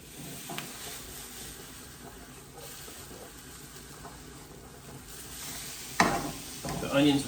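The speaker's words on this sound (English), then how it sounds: "We'll get the onions sauteed." Onions sauté in extra virgin olive oil with a pinch of salt in a pan, giving a soft, steady sizzle with faint stirring scrapes and a louder clatter of utensil against pan near the end.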